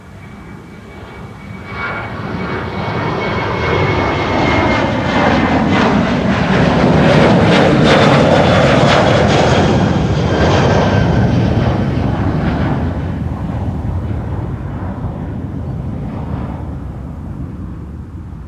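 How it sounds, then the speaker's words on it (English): A China Cargo Airlines Boeing 777 freighter jet at Amsterdam Schiphol Airport roars loudly with engine noise that builds, peaks near the middle and slowly fades over about 18 seconds. "China Cargo Airlines Flight 210 up next, going to Shanghai in China, a 777 freighter."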